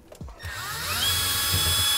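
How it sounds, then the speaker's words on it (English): A cordless electric screwdriver whirs up to a steady high-pitched spin, backing screws out of a Samsung refrigerator's panel, close and loud after a few light clicks of the bit being seated. "Well, it's not a drill, it's a driver"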